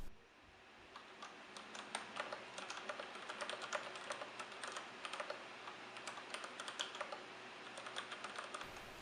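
Keys clack fast and irregularly on a Kinesis ergonomic computer keyboard during a typing test, a quiet, close stream of light taps with no talking.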